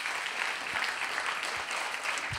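A stand-up comedy audience applauds the Candelai hosts with a dense, steady clatter of many hands, moderately loud and broken by a few low thumps.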